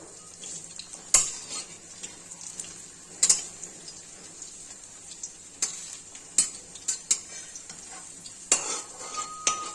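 Mourala fish fritters turned over in a frying pan, a gentle sizzle punctuated by sharp metallic clinks of a utensil against the pan at irregular intervals.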